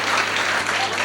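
A village crowd applauds guests at a Haryanvi comedy stage show, steady dense clapping with a low electrical hum underneath, filling the whole short moment without pause.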